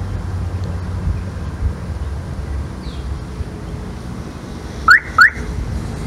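A Perodua Axia fitted with a passive keyless entry system chirps twice in quick succession, two short, fairly loud beeps standing out over a steady outdoor background with light wind noise.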